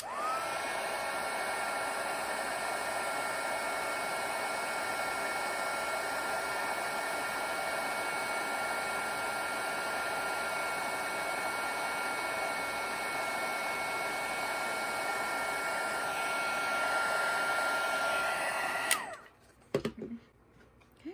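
A heat embossing tool blows hot air over silver embossing powder on paper, a steady loud whooshing fan drone that stops abruptly near the end, leaving a few faint clicks.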